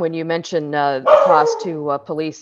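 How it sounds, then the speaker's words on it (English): A dog barks briefly in the background, a short burst of barks partly masked by a person speaking steadily in a meeting over it. "excuse my dog"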